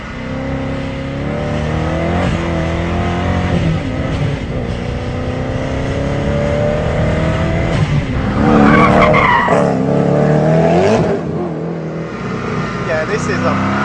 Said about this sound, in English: there's so much noise and so much drama going on in this car